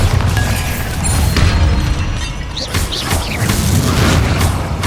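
A Bombarda blasting spell detonates in Hogwarts Legacy, a loud booming explosion with crashing, shattering debris that rumbles on through the whole stretch.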